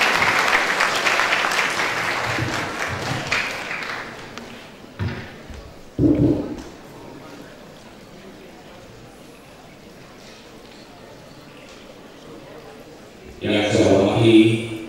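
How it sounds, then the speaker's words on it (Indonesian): Audience applause at an international cyber campus seminar and workshop in North Sumatra, rising in a loud burst of clapping near the end after a quieter stretch with crowd noise and talk. "Kita berikan tepuk tangan buat Ketua DPD Aplikasi Sumatera Utara."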